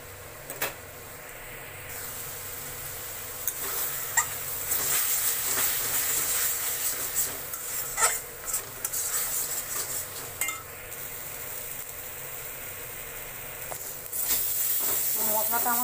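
A spice paste for doi potol, a pointed gourd and yogurt curry, is sautéed and stirred in a pan, with a continuous hissing sizzle and occasional utensil scrapes and clinks while someone talks.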